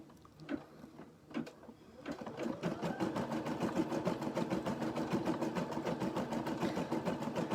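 An embroidery machine stitches a design on a T-shirt, a rapid, even mechanical chatter that starts after a couple of quiet clicks and continues steadily, close and fairly loud.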